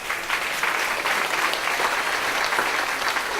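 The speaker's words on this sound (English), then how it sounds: "Please give them a round of applause." Audience at a school event applauding a group of primary school students, a full, continuous round of clapping from a crowd at steady strength across the clip.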